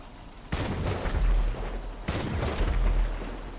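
Cannon on an armored personnel carrier in a video game fires two heavy blasts about a second and a half apart, each a sharp loud boom trailing into a rumbling decay, with no talk over it.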